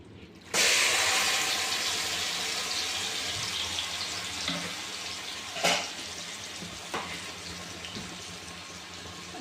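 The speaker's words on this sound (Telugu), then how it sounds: "నేనైతే ఆయిల్ పెట్టాను వేడెక్కింది ఇంకా వేద్దాం కర్రీ" Curry goes into hot oil with a sudden loud hiss, settling into a continuous close sizzle with a few brief stirring clatters and no talk.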